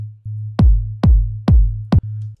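Punchy kick drums thump four times over a steady, low synth techno bass note that drones between hits, loud and dry.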